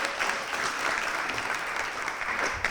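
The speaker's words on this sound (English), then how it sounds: "Let's give a round of applause to Susan for kicking us off." A crowd in a hall applauds at a mayor's State of the City event, a thick, continuous burst of clapping that holds at even strength from start to finish.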